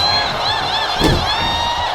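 A game arena crowd in WWE 2K25 cheers for a wrestler showing off, a steady roar with whistles and whoops, swelling briefly in the middle, with no one talking over it.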